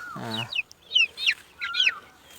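Five-tiger breed chickens cluck in short bursts, with a low rough call at the start followed by several higher chirpy clucks, close and moderately loud.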